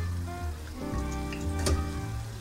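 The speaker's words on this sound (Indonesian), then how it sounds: "Kita goreng sampai ya warnanya benar-benar putih, seputih salju." Cimol, small tapioca dough balls, fry in hot oil with a steady, close crackling sizzle that runs continuously through the short stretch, swelling slightly in loudness near the end.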